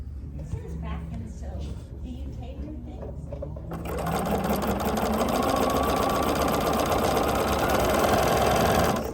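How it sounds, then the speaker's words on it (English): A sewing machine stitches a quilt block seam, starting with a softer hum under a voice and then running loud and fast in a steady mechanical buzz up close. "we're going to sew this seam really fast here"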